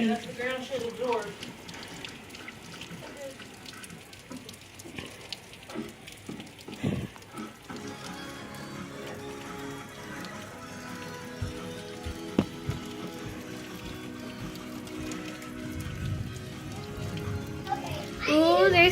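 Heavy rain falls outdoors as a steady, dense hiss with scattered drops striking nearby surfaces, and children's voices talk over the downpour throughout.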